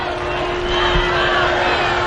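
A large crowd at a women's empowerment rally in Prayagraj roars with cheering and applause for the Prime Minister, a dense, loud, sustained wash of noise with a steady hum running beneath it.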